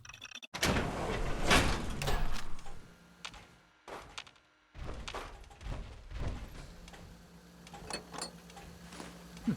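A heavy door slides open in a Fallout 4 lab, a loud mechanical grind and clank followed by metallic thuds and gaps of near silence, with later shots and knocks echoing in the space.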